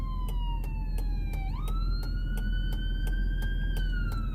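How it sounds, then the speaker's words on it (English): An ambulance siren wails in Las Vegas street traffic, its pitch sweeping down then jumping back up, with a rapid pulsing chop over a steady low traffic rumble. "ambulance wants to get out of the"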